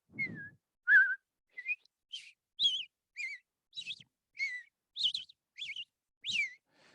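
A person whistles a bird imitation with a breathy, small whistle through nearly closed lips, about ten short clear chirping phrases in a steady rhythm, close and alone.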